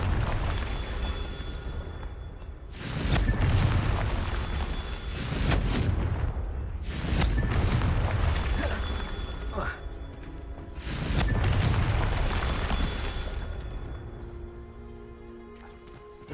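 In Hogwarts Legacy, the Confringo fire spell bursts three times with deep booming blasts, each trailing into a rumbling roar, while a voice talks between them.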